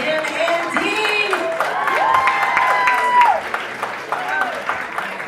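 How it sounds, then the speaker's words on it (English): Wedding reception guests cheering and applauding after toasts, a steady wash of clapping with whoops and shouted voices from a crowd indoors, continuous throughout. "Make some noise for our two best men, Dan and Dean."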